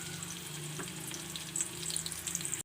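Medium-sized onions fry in about half a cup of oil in a frying pan, a dense close sizzle with light crackles and stirring scrapes that grow busier toward the end before cutting off abruptly, no voices present.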